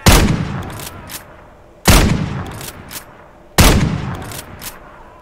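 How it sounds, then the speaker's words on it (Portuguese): Rifle gunfire from a weapon-sound mod for the GTA Trilogy video game, with three loud, sharp shots spaced about two seconds apart, each trailing off in a long echoing decay. "Vamos ver outro rifle aqui, só o áudio."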